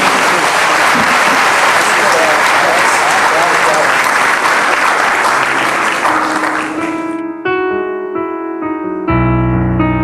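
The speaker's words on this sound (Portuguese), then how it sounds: "Eu quero, junto com os irmãos, aplaudir o Senhor pela vida do pastor Jairo." A church congregation applauds loudly and steadily for about seven seconds, a dense wash of clapping that then gives way to sustained keyboard music.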